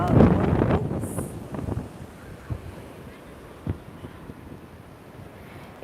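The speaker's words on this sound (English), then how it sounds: "It's very windy." Gusty wind at a beach, rumbling across the microphone in uneven bursts with faint surf beneath, strongest at the start and easing to a softer, steady bluster.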